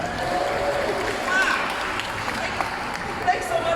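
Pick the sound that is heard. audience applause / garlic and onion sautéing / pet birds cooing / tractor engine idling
audience applause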